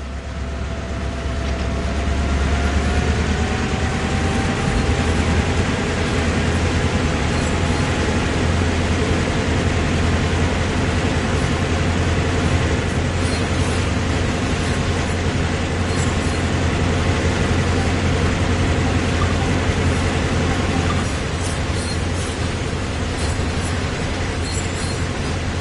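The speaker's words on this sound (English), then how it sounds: "With the train now moving, it's possible to apply more power" Freight train rolling steadily in the Train Sim World game on the Peninsula Corridor, a continuous loud rumble of engine and wheels with a low droning hum and faint tonal whine, unbroken for the whole stretch.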